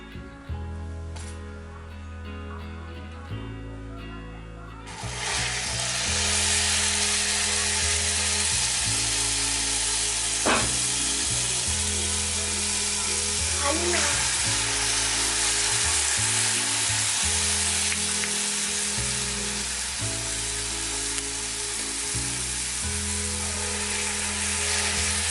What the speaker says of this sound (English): maintain a safe distance and height while dropping the vadas into the oil